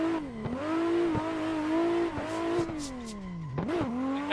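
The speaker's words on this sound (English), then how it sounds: "I mean, we can drift our way through it." A small RC car drifts around a skate park bowl, its high electric motor whine rising and dipping with each slide and throttle change, close and steady with no talk.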